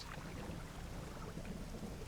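A storm in the fishing game Dredge brings a low, rolling thunder rumble under steady rain hiss, faint but continuous, with no voices.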